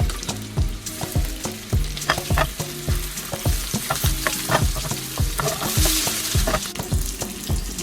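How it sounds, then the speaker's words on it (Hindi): Chicken reshmi kebabs shallow frying in oil over low heat give a steady close sizzle, with scattered clinks and stirring scrapes throughout and no one speaking. "हल्की आंच पे तकरीबन 7-8 मिनट कबाब को फ्राई करेंगे। शैलो फ्राई करना है"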